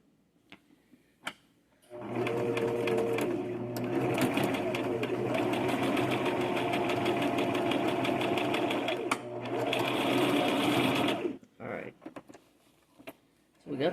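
A sewing machine stitches a garment facing for a Simplicity S9603 pattern, running loud and close in a long steady burst with a brief pause, then stopping.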